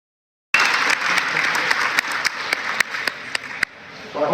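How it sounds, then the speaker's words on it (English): An audience applauds at the end of an IHSTCA coaching presentation. Loud, dense clapping starts abruptly after a short silence, with a few sharp individual claps standing out, then gradually thins and fades. "applause."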